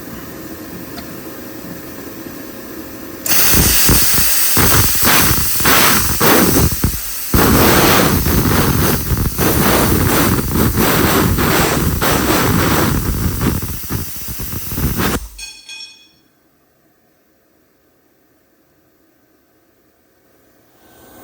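A VEVOR CUT 50 hobby-grade plasma cutter cutting metal, powered through a heavy-duty extension cord, gives a loud, steady roaring hiss with crackling bursts for about twelve seconds, then cuts off into near silence.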